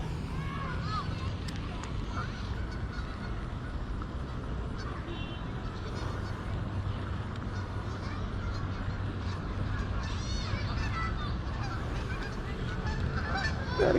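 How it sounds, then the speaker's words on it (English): Geese honk repeatedly throughout, a dense, continuous chorus of overlapping calls from a sizable flock, with faint background voices mixed in. "these geese, they just have not stopped"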